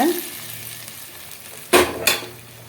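Hot tempering poured over a pan of Madhampatti-style chicken fry gives two sudden loud sizzling bursts after a quiet stretch, each hiss tailing off quickly, close up.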